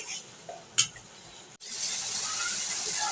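Spices with coriander powder frying in hot oil, a couple of faint stirring knocks and then a steady loud sizzle that continues to the end.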